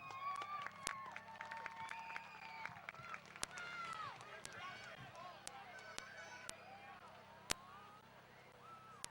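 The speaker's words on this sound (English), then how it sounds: "Ladies and gentlemen, give them a big round of applause." Crowd at a speedway night of destruction event applauding and cheering from a distance, quiet and scattered, with sharp clicks and a voice talking over it.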